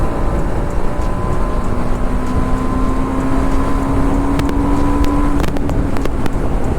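A BMW G310RR motorcycle with a new exhaust runs smoothly and steadily in a continuous loud hum, with a rising whine near the end as it rides along.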